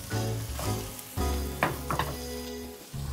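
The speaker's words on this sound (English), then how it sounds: "So we're gonna saute all the vegetables, and it's important to make sure that these get nice and brown" Vegetables saute in a hot pan with a moderate sizzle, joined by a few light stirring knocks and scrapes, heard up close beneath a steady tonal hum, with no talking.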